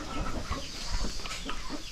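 Chickens cluck softly in short, scattered calls over a faint background hum, heard from a modest distance with no talking.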